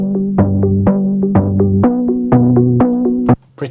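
A dry Legend HZ synthesizer patch with its effects switched off plays a short melodic line of clean, plucky notes at a steady rhythm, close and upfront, ending abruptly with no tail.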